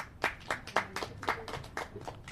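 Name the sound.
applause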